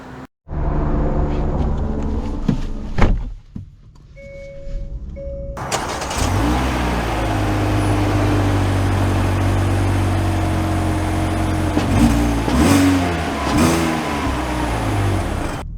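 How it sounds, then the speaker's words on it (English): A 2024 Hyundai Elantra Limited starts up and pulls away, its engine revving and then settling into a steady drone as the car drives on, loud and close, with a few brief swells in engine note. "let's drive it."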